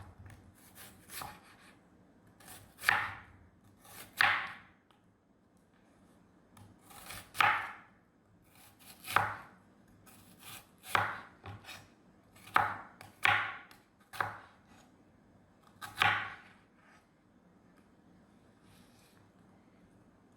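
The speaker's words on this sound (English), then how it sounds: "And now we're just going to thinly slice our onion." An onion is thinly sliced with a knife on a cutting board, a string of about a dozen crisp, close chopping strokes in uneven rhythm, each a sharp near tap against a quiet background.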